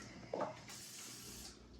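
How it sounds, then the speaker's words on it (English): A Pampered Chef kitchen spritzer, a pump-pressurized oil sprayer, lets out a steady airy hiss of mist that starts partway in and runs close and continuous to the end. "you're just going to spray it in there. So this is called the kitchen spritzer."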